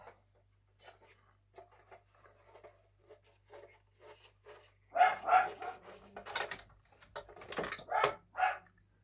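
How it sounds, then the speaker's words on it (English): Dogs bark excitedly nearby in a short burst of loud, irregular yaps after a run of quieter scuffling and panting, with no one speaking. "the dogs are losing their minds"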